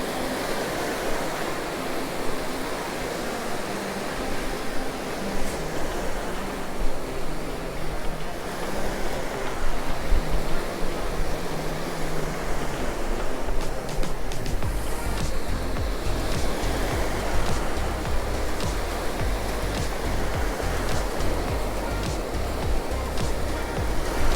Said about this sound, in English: Waves are catching up the camera equipment again already